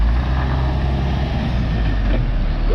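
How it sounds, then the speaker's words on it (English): A lorry rumbles nearby with a deep, steady engine drone and low road noise, continuous and fairly loud throughout. "let's have a look at one of his lorries"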